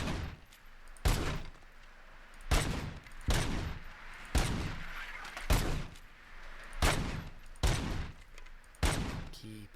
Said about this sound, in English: Keep on shooting